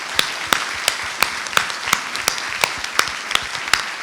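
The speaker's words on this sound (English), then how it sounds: "I just think we should give her a round of applause" Audience at a clinician and patient panel session applauds Fleur Chandler, the creator of Project Hercules. Steady, loud crowd clapping fills the whole stretch, with a few sharper individual claps standing out from the wash.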